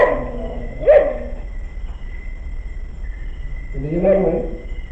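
A dog gives two separate whining barks a few seconds apart, with a steady insect-like whine in the background.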